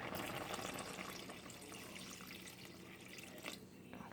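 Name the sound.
water being added to a pot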